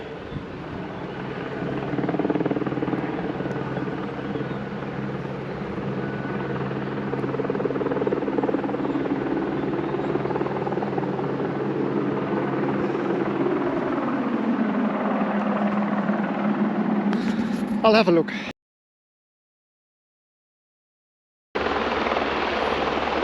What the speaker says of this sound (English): So there is the helicopter to get water.